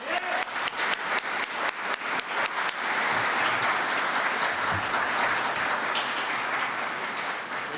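An audience at a book talk breaks into applause welcoming author Rick Atkinson, starting as distinct claps and quickly merging into a dense, steady ovation that carries on throughout.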